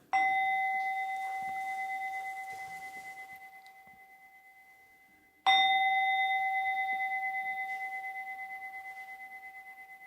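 A struck bell rings twice, each stroke a bright sustained tone with clear harmonics that decays slowly over several seconds, the second strike coming about halfway through; no voices, just the bell resonating alone in a quiet room.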